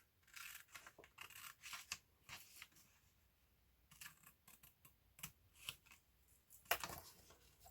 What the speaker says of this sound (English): I'm going to cut along this fold here